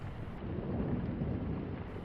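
A passing storm's thunder rumbles low and far off, a continuous deep roll under steady wind and rain hiss, with no voices.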